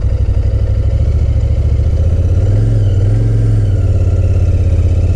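A Royal Enfield Continental GT 650 motorcycle rides along a road, its parallel-twin engine throbbing steadily and loudly up close, with a brief rise and fall in pitch midway as it turns; no one talks.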